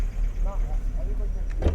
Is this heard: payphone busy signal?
no